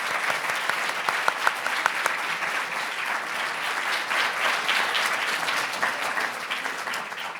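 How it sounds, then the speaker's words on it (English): Audience applauding a panel at a law review colloquium, loud, full and sustained clapping from a sizeable crowd that carries on evenly, with no voices on top. "Please join me in giving our panel one more round of applause."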